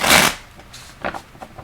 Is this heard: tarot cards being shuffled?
yes